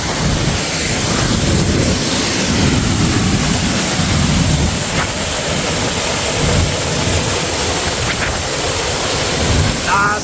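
Strong waves crash against the rocks along a Bali shoreline in a loud, continuous roar of surf that fills the whole stretch, with wind buffeting the microphone.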